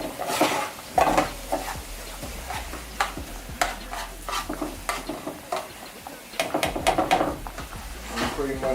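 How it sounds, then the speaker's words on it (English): Diced peppers sauté in a pan, with light sizzling under repeated clacks and scrapes of stirring, close and fairly loud, while someone talks throughout. "sauteing it first just to let it get warm"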